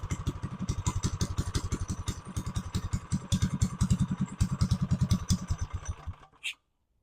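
A small single-cylinder mini bike engine runs loud and close with a rapid, steady thumping exhaust beat and clattering mechanical noise, then cuts off abruptly near the end.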